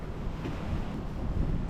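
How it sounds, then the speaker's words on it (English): Strong wind gusting across an exposed, long wooden trestle bridge in Quesnel, British Columbia, a loud rumbling buffet of wind noise on the microphone, continuous and close. "There is zero protection from the wind."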